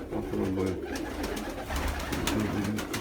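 A sick pigeon coos in low, repeated throaty phrases with a rough, wheezy edge, heard up close in a quiet room.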